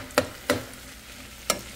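Chicken and vegetables sizzle in a pan while being stirred, with three sharp scraping stir strokes over a soft, steady frying hiss.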